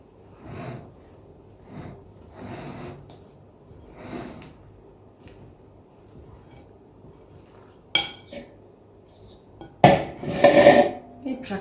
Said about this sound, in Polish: Mieszam.